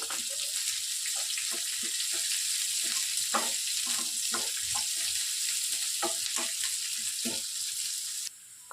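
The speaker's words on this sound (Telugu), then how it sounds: "నేను కట్ చేసి పెట్టుకున్నటువంటి ఒక మీడియం సైజ్ ఆనియన్ని వేసి బాగా దోరగా వేయించుకోవాలి." Chopped medium onion frying in hot oil in a pan, a steady loud sizzle throughout with intermittent scraping stirs, no talk, ending slightly quieter.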